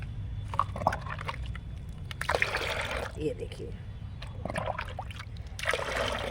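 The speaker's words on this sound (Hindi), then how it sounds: "अब इसमें मैंने ये छाछ डाल दी," Buttermilk is poured into a vessel of water, making a trickling, splashing sound in several short bursts. A person talks throughout.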